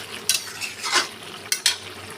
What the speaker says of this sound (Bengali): এবার আমি অল্প পরিমাণ গরম মশলা দিয়ে দিলাম, দিয়ে ভালো করে এঁচড় আর আলুর সঙ্গে মিশিয়ে নিচ্ছি।